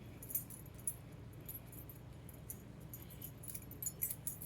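Keys on a keychain wristlet jangle in bright metallic clinks, close but fairly soft, in scattered bursts that grow busier toward the end.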